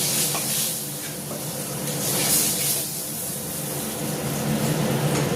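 Fish frying in a pan on a gas stove, browned until reddish, a steady close hiss and sizzle with crackles throughout.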